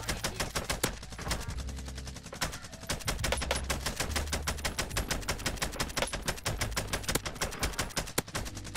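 Rapid, continuous gunfire in the video game Warzone, with dense bursts of automatic shots rattling loudly and nearly nonstop throughout, with no voices heard.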